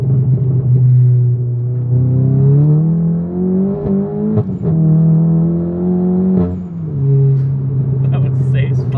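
Modified VW Golf GTI Clubsport Edition 40 with a loud Remus exhaust, heard from inside at a steady cruise, a deep droning engine note that rises and falls with throttle, with people talking over it.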